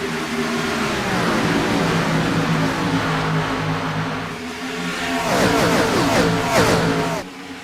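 Race cars in the iRacing sim roar off together at the start of a Gen 4 series race at Texas, a dense pack of engines rising in pitch as they accelerate, with a second surge of revving near the end.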